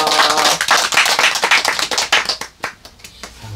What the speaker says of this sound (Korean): 우리 하나님께 영광을 박수 올리겠습니다